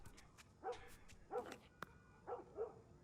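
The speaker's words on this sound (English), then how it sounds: "Just a dogs barking and alarms going off." Dogs barking in The Last of Us, a few short muffled barks and yips at a distance, spaced in pairs over a quiet background.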